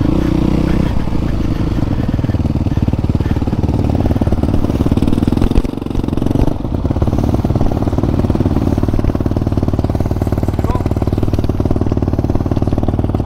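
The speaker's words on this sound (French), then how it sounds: "Éteins ton moteur." A dirt bike motorcycle engine idles loudly and close at a muddy motocross track in Gouy-en-Artois, a continuous throbbing rumble with slight wavering and a brief dip midway.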